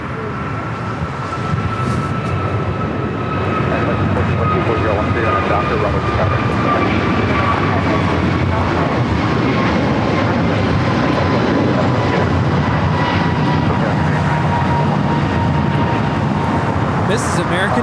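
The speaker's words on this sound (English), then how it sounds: "This is American Airlines 143 taking off to Honolulu on the A321neo." An American Airlines Airbus A321neo jet roars loudly as it takes off at LAX, a broad and continuous engine rumble with a whining tone that slowly falls in pitch.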